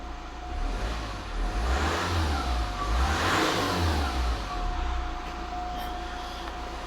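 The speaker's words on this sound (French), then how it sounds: "Tu veux que j'accélère?" An Opel Zafira 1.7 CDTI diesel engine, tuned to stage 1 with the DPF and EGR removed, revs up and holds high for several seconds, then eases back. The engine note is close, loud and steady.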